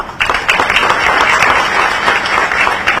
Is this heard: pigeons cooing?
no